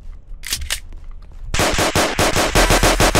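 Roblox video game gunfire: a couple of sharp shots, then loud rapid automatic bursts hammering in a fast steady rhythm, close and dominant.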